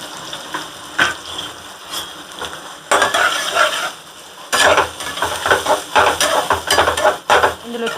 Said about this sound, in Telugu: అయితే ఇప్పుడు నేను ఆనియన్స్ వేసేస్తున్నాను.